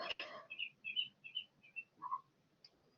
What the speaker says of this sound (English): I'm really sorry about the duckling in the background chirping, guys. She's really high-pitched.